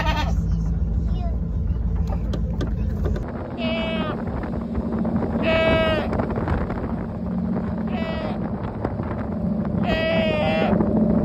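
A goat bleats repeatedly, loud and close, while riding in the back of a moving truck, with steady wind and engine rumble underneath between the calls.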